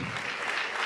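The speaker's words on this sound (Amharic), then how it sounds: "አጨብጭቡ ለዚህ ቃል።" A church congregation claps briefly, a thick, even burst of many hands filling the short moment at moderate loudness.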